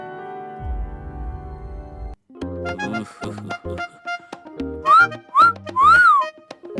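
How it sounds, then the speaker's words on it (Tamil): Someone whistles at a female police constable: several short, sharp rising-and-falling whistle calls come toward the end, after a stretch of other tonal sounds. "என்ன தைரியம் இருந்தா ஒரு லேடி கான்ஸ்டபிள பார்த்து விசில் அடிப்பேன்"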